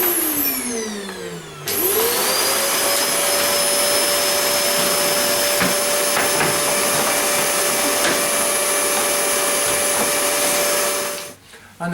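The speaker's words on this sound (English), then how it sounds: "Quite an easy job with a vacuum" A vacuum cleaner switches on and drones loudly and steadily, sucking fluff from around the door frame of a White Knight tumble dryer, then cuts off abruptly near the end.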